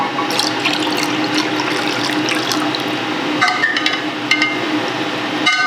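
Tea poured into a container already holding water, a steady splashing liquid stream at close range with a couple of sharp clinks of the vessel near the end.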